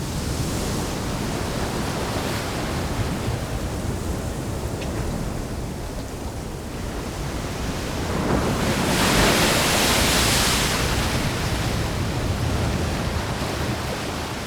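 Waves washing over rocks on a coast where otters live, a steady broad roar of surf that swells louder midway, with no voices.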